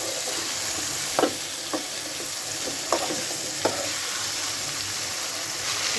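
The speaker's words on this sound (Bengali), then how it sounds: "কষানো মশলাতে দিয়ে দেব ফুলকপিগুলো। এবার একটু ভালোভাবে নেড়ে করে নেব।" Cauliflower florets being stirred into fried spice masala in a pan: a steady, close sizzle punctuated by a few distinct spatula knocks and scrapes, with no talking.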